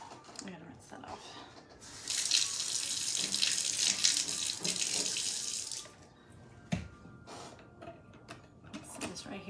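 Tap water runs into a sink for a few seconds as something is rinsed off, a steady close splashing rush, then stops, followed by handling clatter and a sharp knock.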